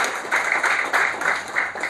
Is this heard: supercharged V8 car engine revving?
no